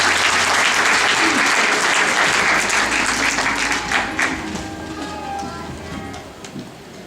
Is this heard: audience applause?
yes